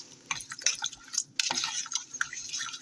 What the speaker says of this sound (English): Now we need to stir this up. Let me get me a spoon real quick. Stir this up. Mix this all together.